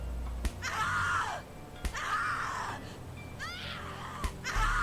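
Repeated screaming from The Cat Lady video game, several drawn-out shrill cries broken by sharp slapping impacts, loud and close in a tense game scene.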